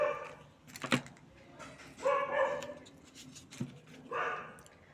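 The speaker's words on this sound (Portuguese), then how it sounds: "vocês estão ouvindo cachorro latindo, panela batendo" A dog barks in short, separated bursts, several sharp woofs spread over a few seconds, moderately near amid quiet indoor background.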